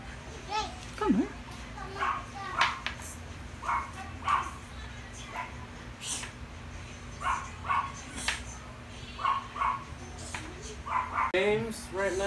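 A three-legged dog gives a string of short, sharp yips and barks at irregular intervals, with people's voices in the background.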